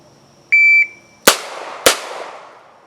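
Two sharp gunshots crack out about 0.6 seconds apart during a multiple-opponent speed and accuracy drill, each followed by a short decaying echo, with a brief electronic beep sounding just before them.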